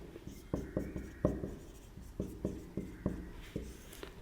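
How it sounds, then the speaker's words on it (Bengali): A pen or chalk writes in quick rhythmic taps and short strokes, about a dozen distinct marks in a steady pattern, close and fairly quiet, with no talking. "আমি একটু লিখে দিই।"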